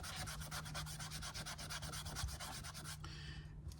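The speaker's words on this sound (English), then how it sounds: "you can take like a 3M metal polishing pad" A 3M metal polishing pad rubbing the surface of a metal weight for an HO scale freight car, heard as a quick, steady back-and-forth scrubbing rhythm up close, faint and without talk.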